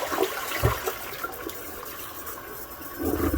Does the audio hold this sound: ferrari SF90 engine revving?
no